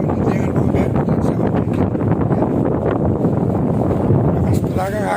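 Strong wind buffets the microphone at sea from a boat, a steady loud rumbling roar throughout with a voice faintly mixed in near the end.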